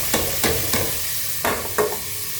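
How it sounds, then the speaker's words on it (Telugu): Chopped onions, green chillies and garlic fry in hot oil with a steady sizzle, while a spoon scrapes through the pan in five quick, close strokes. "ఇప్పుడు ఎర్రగడ్డలు వేసినా కదా ఫ్రెండ్స్, ఇంకా పచ్చిమిరపకాయలు, తెల్లగడ్డలు అన్నీ ఒకేసారి వేసేస్తాను"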